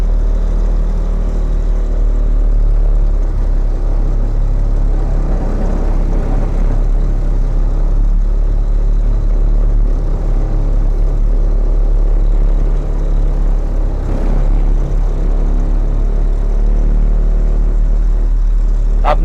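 A heavy vehicle's diesel engine rumbles steadily at low revs while reversing through a tight-obstacle heavy driving test track at an RTO in Rajasthan, a close, continuous drone with slight swells and no talk.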